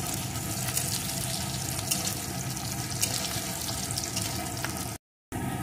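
Spices frying in oil for a masoor dal tempering: continuous crackling sizzle, loud and steady, with a brief dropout of silence near the end.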